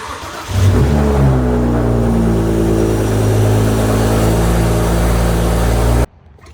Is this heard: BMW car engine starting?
yes